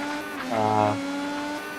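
IndyCar racing car in a video game at Montréal locking its brakes, a short tonal screech rising for about half a second over a steady engine drone, with commentators talking throughout.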